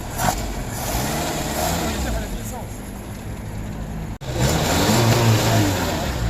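A broken-down car's engine runs after a restart, a steady loud rumble with revving swells, heard close, while people talk over it.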